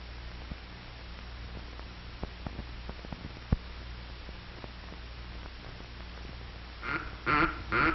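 Faint quacking of ducks flying high overhead during a duck hunt comes in near the end over a steady hiss of background noise, preceded by scattered soft clicks.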